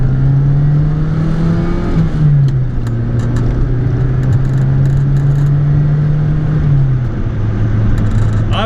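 A Saab 900 Turbo accelerates hard at full power, its loud engine note rising then dropping with short upshifts at about two and seven seconds, heard close from inside the car without talk.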